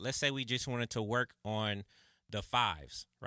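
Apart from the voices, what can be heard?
None of the usual background noises is heard.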